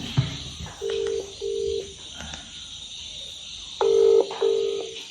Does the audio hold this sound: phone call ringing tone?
yes